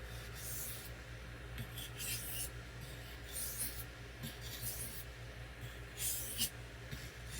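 A Gerber 350ST knife blade is stroked across Washita and hard Arkansas whetstones: quiet, close scraping strokes in an uneven rhythm over a faint background hiss.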